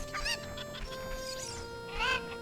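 Chickens in Kakariko village from The Legend of Zelda: Ocarina of Time cluck in short, pitched bursts, with a louder squawk near the end over a soft game background.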